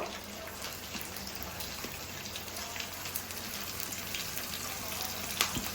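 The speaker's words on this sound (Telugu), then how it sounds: "ఈ పచ్చిమిర్చి ఉల్లిపాయ కూడా బాగా ఎర్రగా వేగే వరకు వేసుకున్నామండి" Green chilies and onions sizzle in hot oil alongside dried shrimp, a steady, moderately quiet hiss and crackle with scattered pops throughout.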